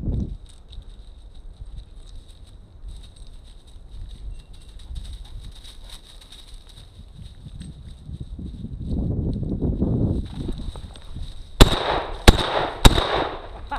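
Shotgun blasts during an outdoor pheasant hunt: after quiet rustling footsteps in brush, two or three sharp loud cracks ring out in quick succession near the end.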